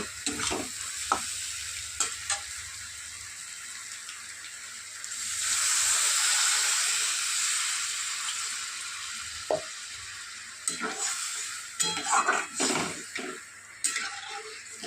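Egg and potato curry on a high gas flame sizzling after a little water goes in, a steady hiss that swells mid-way, with scattered clicks and scrapes of a spoon in the pan.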